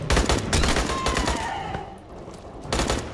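Bursts of battle rifle fire from Aliens: Colonial Marines crack loudly in quick clusters, pause briefly, then resume in another burst near the end.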